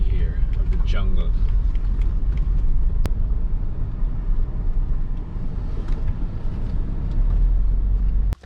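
A vehicle drives off-road into the jungle toward a nature resort in Guyana, a steady low engine rumble throughout as someone talks over it.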